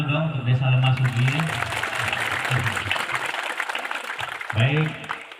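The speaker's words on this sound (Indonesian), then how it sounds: "Tepuk tangan dulu dong untuk Desa Lemasugi." Audience applause at a village event in Lemah Sugi, a steady wash of clapping from a crowd, with a voice talking over it at the start and again near the end.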